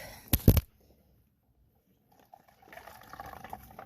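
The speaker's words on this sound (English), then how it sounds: "I have to put this down to wring it out." Water spills from a Norwex cleaning cloth as it is wrung out after a spill: a short, loud splash, a pause of near silence, then a soft, uneven trickle and patter of drips.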